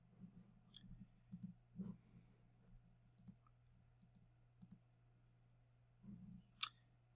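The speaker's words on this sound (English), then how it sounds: "I'm just going to click on this play button right here." A single close computer mouse click on a play button, sharp and faint, among a few light clicks and quiet rustles over a low steady hum.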